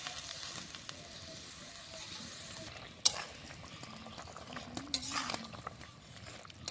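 A fish and potato curry, made with rupchanda (pomfret), simmers in a pot with a steady low bubbling hiss, broken by a couple of sharp utensil clinks near the middle and later on. No one speaks.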